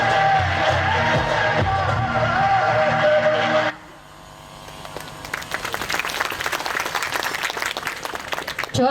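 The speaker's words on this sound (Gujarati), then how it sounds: "જોરદાર તાળીઓ સાથે આપણે વધાવી" A crowd at a temple gathering in Bhavnagar, Gujarat claps loudly and steadily, then the applause breaks off sharply and gives way to a quieter murmur as scattered claps build again with music and voices.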